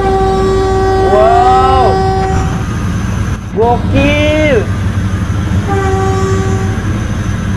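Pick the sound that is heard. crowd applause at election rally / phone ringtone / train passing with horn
train passing with horn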